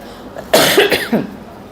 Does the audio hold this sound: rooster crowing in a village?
no